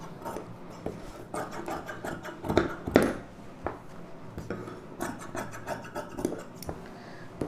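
Scissors cut through blouse fabric up close, making a continuous run of crisp snipping and rustling rasps with small clicks, without any speech.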